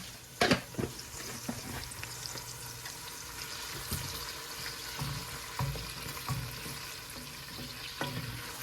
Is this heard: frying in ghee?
yes